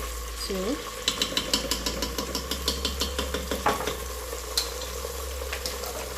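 Culantro being stirred into a frying rice mixture for arroz con gandules: a steady low sizzle runs under rhythmic scraping stir strokes that repeat about every quarter second, fairly quiet with no speech.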